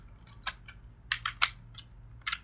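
Short bursts of typing on a computer keyboard, with a handful of separate key clicks scattered irregularly and nearby, and no talking.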